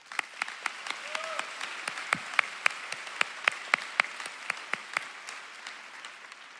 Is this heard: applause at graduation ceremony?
yes